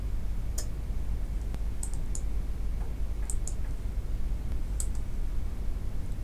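Faint, sparse mouse clicks from someone working in CorelDraw, a handful of sharp ticks spaced irregularly over a steady low background hum.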